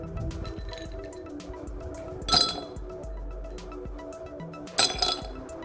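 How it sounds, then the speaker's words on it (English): Ice cubes dropped into a serving glass give two sharp glassy clinks a couple of seconds apart over a low background hum. "Take a serving glass and add a few ice cubes to it."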